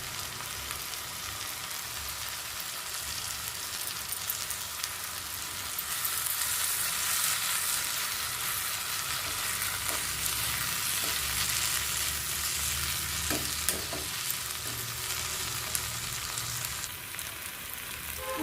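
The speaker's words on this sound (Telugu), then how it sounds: "ఇప్పుడు ఇందులోనే అల్లం వెల్లుల్లి పేస్ట్ వేస్తున్నాను." Ginger garlic paste frying in a pan for a prawn curry, a steady soft sizzle that swells partway through, with a few faint stirring clicks near the end.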